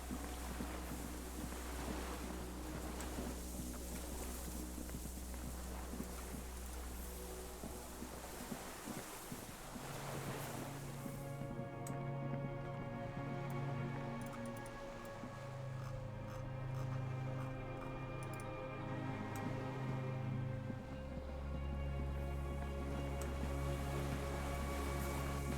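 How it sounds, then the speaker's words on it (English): Cargo ship signal horns in Disco Elysium sound long and low, echoing over water beneath wind and surf, with sustained tones that shift in pitch and overlap. "Sound of cargo ships. Signals horns echo on the water."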